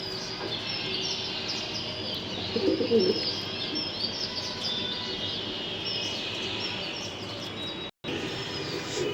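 Pigeons kept for flying coo and chirp steadily in a loft, with a continuous bed of soft bird calls throughout and a brief dropout near the end.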